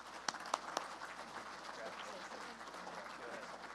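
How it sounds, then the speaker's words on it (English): Audience at an annual awards banquet applauds an award recipient, a few sharp loud claps up front settling into a soft, even wash of clapping from a distant crowd, fairly quiet overall. "So let's give a round of applause to Aubrey Schwartz."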